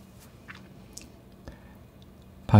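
Soft, close chewing of tiramisu dusted with unsweetened cocoa powder, a few quiet moist bites and squishes over near silence, ending in a sudden louder burst.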